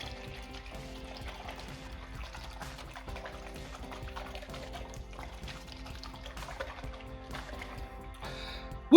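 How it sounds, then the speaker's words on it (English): Bottles of sugar, water and yeast mixture are shaken, giving a steady wash of sloshing liquid and light rattling that keeps going throughout, ending in a sharper knock. "I'm going to mix together the sugar, the water and the yeast. And I'm going to do that just by giving them a good shake."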